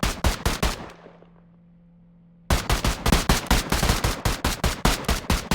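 Gunfire at alternating shooting practice: rapid bursts of loud, close shots, then a brief pause filled by a low hum before another fast string of shots resumes.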